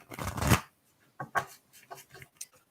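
Oracle cards from a Work Your Light deck are shuffled by hand, a burst of riffling followed by several shorter, softer flicks and slides of the cards, close and dry with no talking.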